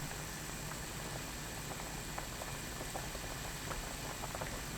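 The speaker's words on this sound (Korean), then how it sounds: "센 불로 4분 끓입니다." Chicken soup seasoned with chili powder at a rolling boil over high heat, a dense, even bubbling and popping that carries on steadily without voices.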